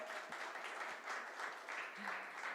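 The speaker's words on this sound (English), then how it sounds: "let's have a huge round of applause for her" An audience applauds actress Kriti Sanon at a Skechers walkathon press conference in Mumbai, a faint, steady wash of clapping with no one talking over it.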